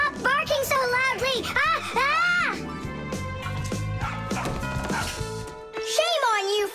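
Cartoon rabbits in an animated children's show bark loudly in a rapid series of high, yappy barks, mixed with lively character voices talking over them.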